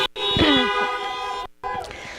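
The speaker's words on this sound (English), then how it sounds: "Give him a honk." Car horns honk at an indoor community gathering, with a long sustained blare, a short drop to silence, then another horn resuming, loud and close, with no talking.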